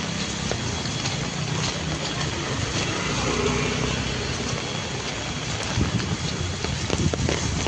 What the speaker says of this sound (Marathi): एवढी मोठी छत्री घेऊन सुद्धा दाजी ओले झालेत, म्हणजे पाऊस केवढा असेल